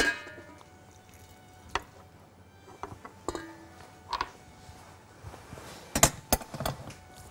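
Butter, flour, oil and anise being mixed by hand in a bowl for a cheesecake base, faint soft rubbing with scattered light taps and clicks against the bowl, quiet with no talking.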